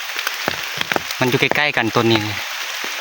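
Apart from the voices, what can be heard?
rain falling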